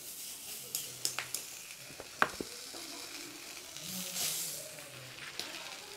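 Fish slices frying tawa-style on an electric multimaker roti maker, a steady soft sizzle with a few sharp crackles and pops near the start and a brief louder hiss swell later, no voices.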